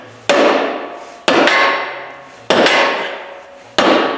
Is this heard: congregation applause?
no